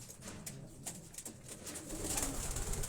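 Breeder racing pigeons in a loft cage coo in low, overlapping bursts, fairly close, with soft rustling and a bright background hiss throughout.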